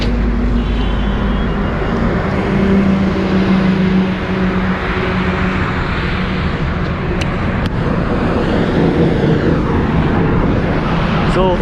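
Royal Enfield Classic 350 motorcycle on a long highway ride, a steady loud engine drone and wind rush filling the whole stretch without a break.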